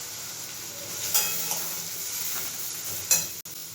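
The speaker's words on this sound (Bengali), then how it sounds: "এবার কষিয়ে নেব।" Fish masala paste with turmeric and Kashmiri chilli sautéed in a pan, a faint steady sizzle with two brief scraping stirs and a sharp tap near the end.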